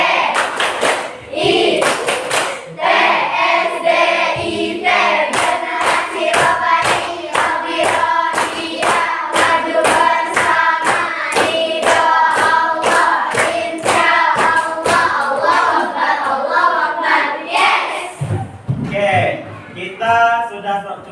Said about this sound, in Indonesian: kita tepuk SDIT terlebih dahulu